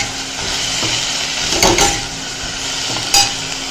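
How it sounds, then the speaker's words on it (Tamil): Curry leaves sautéed with salt in a pan for a ginger and curry leaf thogayal give a steady close-up hiss and sizzle, with a few scraping stirs and a sharp spoon knock near the end. "உப்பை சேர்த்து நல்லா வதக்கிக்கலாம்"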